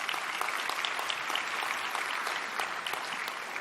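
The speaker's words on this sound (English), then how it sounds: "Give Kirsten a round of applause." Steady, dense round of applause from a conference audience honoring a Breast Cancer Network Australia leader, continuous and fairly loud throughout with no talk over it.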